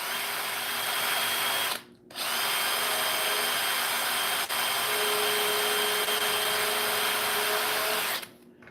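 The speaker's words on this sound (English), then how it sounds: "I'm just going to drill a hole through." A power drill whirs steadily and loudly for several seconds, stopping briefly once before running on, then winding down near the end.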